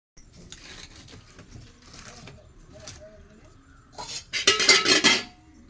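Dishes, pots and cutlery clatter in a home kitchen as they are washed after crab cleaning, quiet clinks at first that build into a louder burst of metallic scraping and banging near the end.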